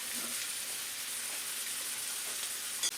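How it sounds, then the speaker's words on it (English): Ground beef and mild Italian sausage frying in hot olive oil, a steady soft sizzle and hiss throughout with a faint clink near the end. "Now that the oil has had a chance to heat up, adding in ground beef, along with mild Italian sausage."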